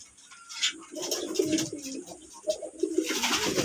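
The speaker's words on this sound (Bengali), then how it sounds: "দেখেন কীভাবে গোসল করে গোসল করে পালক ঝাড়া শুরু করে দিতেছে" Pigeons gathered for a bath coo and call steadily at close range, with soft rustling and splashy movement beneath the birds' voices.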